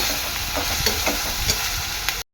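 Ginger-garlic paste stirred in a hot frying pan gives a steady, close sizzle with soft scraping strokes throughout, cutting off abruptly at the end; no talking.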